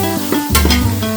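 Tamarind juice is poured into a pan of crab curry with onion and whole garam masala, setting off a brief, loud, close sizzle and bubbling.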